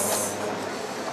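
A train on a London suburban line gives a loud, steady rumble with broadband rail noise that holds evenly from start to finish, with no voices over it.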